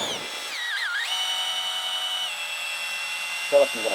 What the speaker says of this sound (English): I feel like I'm going to burn the drill out.